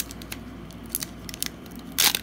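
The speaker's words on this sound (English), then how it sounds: "we're opening Pokemon cards" Pokémon Sword and Shield booster pack foil being torn open by hand, a few short crinkly rips building to one louder tear near the end, close up with no talking.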